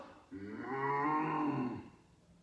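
A single long, drawn-out human-imitated cow moo, low and steady, rising slightly in the middle before cutting off.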